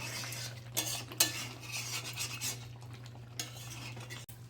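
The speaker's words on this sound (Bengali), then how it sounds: "মাংস কষানো হয়ে গেছে, দেখতে পাচ্ছ তেল ছেড়ে গেছে" A spatula scrapes and knocks against a pan as chicken curry with potatoes is stirred and browned. The strokes are irregular and close, with a soft sizzle underneath and no speech.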